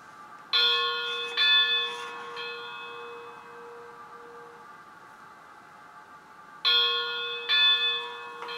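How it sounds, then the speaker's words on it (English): Locomotive bell from a Tsunami steam sound decoder in a model train, ringing in two clusters of bright metallic strikes with a lingering decaying tone between them, close and clear. "Now, if you notice here, I have not turned off my bell."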